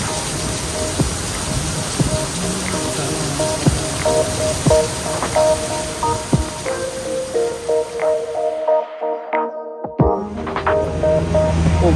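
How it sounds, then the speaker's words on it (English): Heavy downpour of rain in Manila, a dense steady hiss of rain striking surfaces with scattered close drips and splashes, briefly dropping out near the end before resuming. "The downpour of today's rain in Manila."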